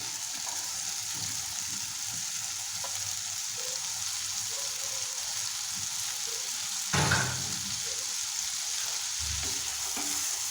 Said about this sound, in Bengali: এখন নেড়ে চেড়ে দিচ্ছি।